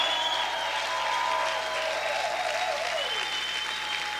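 Church congregation applauding loudly during a sermon, a continuous dense wash of clapping from a crowd, steady throughout.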